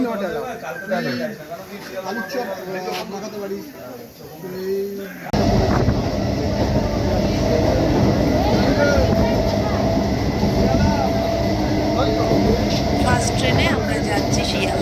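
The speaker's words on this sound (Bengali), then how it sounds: "আমাদের ট্রেন আসছে" A train pulls into a station platform with a sudden loud, steady rumble and rattle that takes over halfway through. Before it, people chat and birds call nearby.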